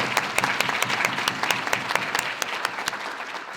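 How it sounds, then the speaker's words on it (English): Audience applause at an annual healthcare summit, a crowd of fairly close individual claps in a brisk steady rhythm, tapering off slightly toward the end. "help me give them a round of applause"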